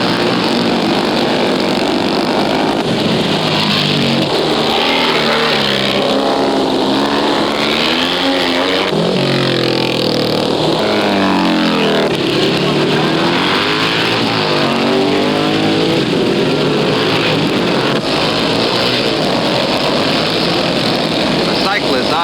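Motorcycle race engines roar continuously, loud and close, with pitch rising and falling as bikes accelerate and pass, while a commentator speaks over the noise.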